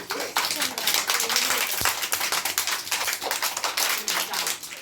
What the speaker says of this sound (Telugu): ఒకసారి మీకు అందరికి క్లాప్స్